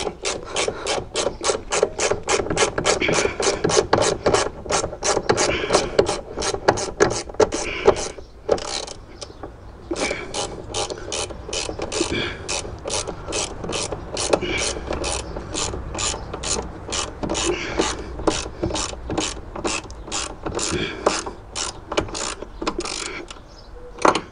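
A ratchet wrench turned on the upper wishbone of an Alfa Romeo 166, a long run of rapid regular clicking strokes, close and loud, with a brief pause midway.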